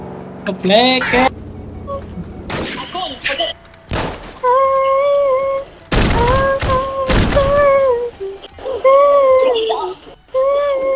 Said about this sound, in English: That's a grenade launcher.